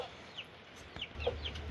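Chickens cluck in a backyard coop, a few short, close clucks and soft calls scattered over a quiet background.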